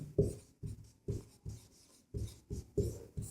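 Pen or chalk writing in quick, separate strokes, close and fairly soft, with short scratchy bursts and brief pauses between words while solving a maths problem.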